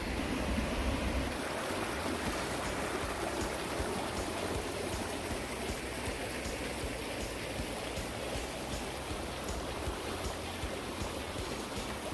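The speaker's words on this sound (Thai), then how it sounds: "จุดนี้ยังมี น้ำตกด้วยนะครับ" A waterfall at a lotus flower spot in Pattaya gives off a steady, dense rush of falling water, loud and unbroken throughout with no voices.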